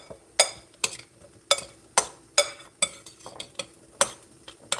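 Shrimp seasoned with pepper and Mrs. Dash being stirred in a bowl to marinate, giving about nine sharp, evenly spaced scraping clinks of a utensil against the dish, close up and with no talking.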